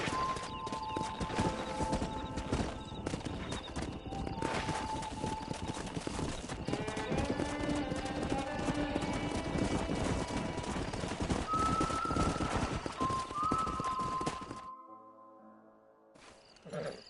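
Horses trotting in the Red Dead Redemption video game: steady rhythmic clip-clop of hooves over a loud, dense bed of in-game ambience and music, cutting out abruptly near the end.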